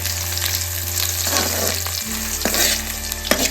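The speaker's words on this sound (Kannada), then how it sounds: "ಹೆಚ್ಚಿಟ್ಟ ಈರುಳ್ಳಿಯನ್ನು ಹಾಕ್ಕೊಳ್ತಾ ಇದ್ದೀನಿ. ಈರುಳ್ಳಿಯನ್ನು 1 ನಿಮಿಷ ಬಾಡಿಸ್ಕೊಳ್ಬೇಕು." Chopped onions frying in a hot pan, a loud continuous sizzle with a few stirring scrapes and clinks near the end, no voices.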